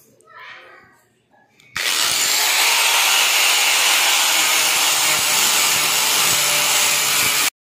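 A power grinder sands a wooden cabinet, starting abruptly after a moment of quiet talk and then running as a loud, steady, close abrasive whine and hiss for about six seconds before cutting off sharply.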